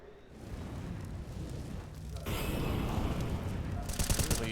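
Grenades exploding in the video game CS:GO during a professional match, a dense rumbling barrage of booms and gunfire-like blasts that grows louder and fuller partway through.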